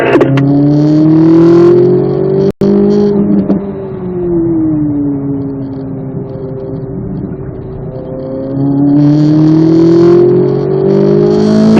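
A Corvette Z06 accelerating out of a corner on a racetrack, the engine note rising and then falling as it pulls, a loud close in-car drone that swells again toward the end.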